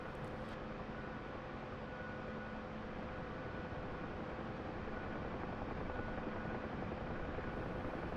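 A Bell UH-1 helicopter in a flight simulator drones with a steady, dense rotor and turbine hum from start to finish, heard from the cockpit with no talking.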